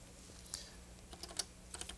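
Keys on a computer keyboard in an early educational computing setting clatter faintly, in irregular bursts of quick clicks that grow busier toward the end, with low background hum and no voices.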